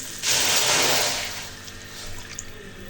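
Water poured into a wok holding fried chicken for chicken corn soup, a loud gushing splash that tapers into a softer trickle and fades.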